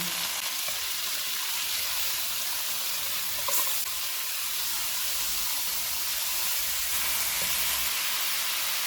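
Chicken tikka pieces fry in hot oil in a pan over medium heat, giving a steady, dense sizzling hiss that holds evenly throughout without speech.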